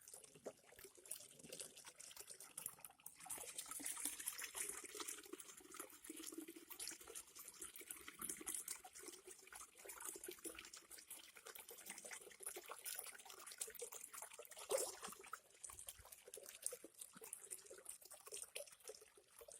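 Water from a water wheel pours into a pond, a continuous splashing rush that swells and dips over a long stretch, fairly quiet with no talking.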